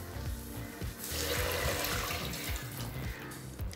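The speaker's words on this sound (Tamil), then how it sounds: "அடுத்தது நம்ம தண்ணி சேர்த்துக்கலாங்க" Water pours into a pot for tomato biryani, a close, full gushing splash that runs continuously for a few seconds with slight swells in loudness.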